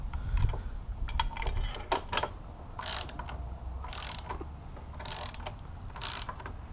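Socket wrench with an extension ratcheting a bolt into a crash cage on a Yamaha FZ-07 motorcycle, heard as several short bursts of clicking separated by pauses, close and fairly quiet, with no talking.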